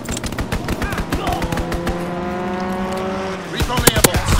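A fighter plane strafes with rapid gunfire in Call of Duty WWII, dense cracking bursts over a droning engine whose pitch slides, loud and close, with a voice calling out over the action.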